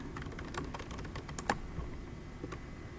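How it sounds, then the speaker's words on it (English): Typing on a computer keyboard, a quick run of soft key clicks with one sharper tap, close and fairly quiet, no voices. "I've typed in all my literary terms"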